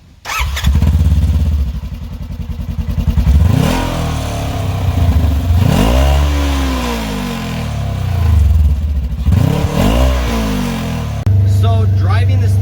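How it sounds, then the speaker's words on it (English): A Polaris General 1000 UTV with a 1000cc engine revs hard several times from idle, each rising and falling sweep loud and close, with speech heard over it. "let's listen to what that 1000cc motor sounds like"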